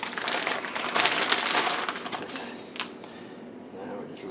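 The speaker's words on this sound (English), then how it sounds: "All kitchens need a pair of scissors. These packages are getting so hard to open." Scissors snip and crinkle through a hard plastic food package in a home kitchen, a close, fairly quiet burst of cutting and crackling that tapers off toward the end.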